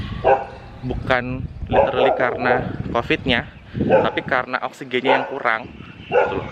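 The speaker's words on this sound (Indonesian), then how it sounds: "Ini ada anjing gonggong dari tadi tuh." Outside, a dog barks intermittently, faint behind a person talking throughout.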